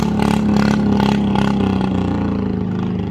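A farm tractor engine roars steadily on a road while racing a ten-wheel truck, a loud, continuous droning rumble with slight pulsing and clatter throughout.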